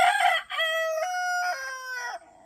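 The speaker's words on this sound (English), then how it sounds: "Too many roosters." A rooster crows loudly and close by, one long harmonic call with a rising start and drawn-out, falling finish, no other sounds around it.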